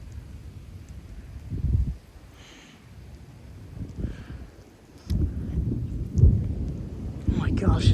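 Severe thunderstorm in Frisco, Texas, with 35 mph wind gusts: deep rolling thunder swells and fades in several waves over steady rain and gusty wind noise, with faint voices in the background.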